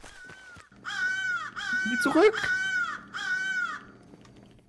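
Crow cawing in the video game Secret Neighbor: four loud, evenly spaced caws in a row, with a brief voice cutting in between and chatter from players.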